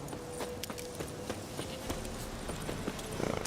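Horse hooves clip-clopping in The Witcher 3 video game, an uneven run of muffled thuds over a steady ambient bed, picking up pace and growing denser toward the end.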